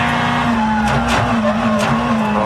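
A WRC rally car engine in a racing video game drones at high revs with a sustained buzzing tone, brief gear-shift dips and faint tire noise, loud and close, no talking.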